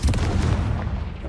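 A Confringo fire spell exploding in the video game Hogwarts Legacy, a single heavy booming blast that hits at once and then rumbles and fades over about a second.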